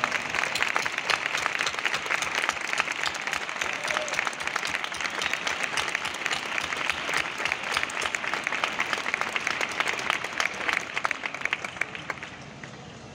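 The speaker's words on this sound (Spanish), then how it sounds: "yo quiero daros un aplauso, yo y nosotros, a vosotros, por estar ahí." Concert audience at a show in Málaga applauding, a dense sustained wash of clapping from a large crowd that holds steady and tapers slightly at the end.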